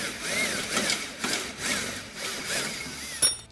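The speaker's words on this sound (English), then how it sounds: "So we'll wanna drill those rivets out now." A power drill drills out the factory rivets on a lower slider bracket of a Can-Am Defender side-by-side, making repeated close grinding whirs that rise and fall in short pulses and end in a sharp metallic snap.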